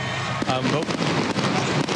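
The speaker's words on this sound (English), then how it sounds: "Mookie, it's fireworks night here in Atlanta." Fireworks crackle and pop in quick irregular bursts over a loud crowd-and-commentary wash at a baseball stadium in Atlanta, with people talking throughout.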